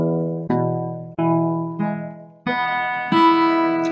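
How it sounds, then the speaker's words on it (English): Single guitar notes from one chord are plucked one after another, six clear attacks about half a second apart, each ringing and decaying before the next, close and alone. "strum the whole chord and then play each note individually"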